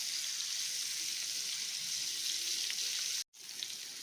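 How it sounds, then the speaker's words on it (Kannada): Paneer pieces frying in a pan for a restaurant-style paneer paratha, a steady close broadband sizzle of hot oil that runs unbroken, cuts out briefly near the end, then resumes. "ಪನ್ನೀರು ಸ್ವಲ್ಪ ಕೆಂಪನಿಗೆ ಫ್ರೈ ಮಾಡ್ಕೊಳ್ಳೋಣ"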